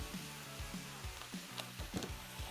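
Pork patties sizzle steadily in a hot pan, a dense crackling hiss with low rhythmic scraping or stirring knocks every half second or so, no voices.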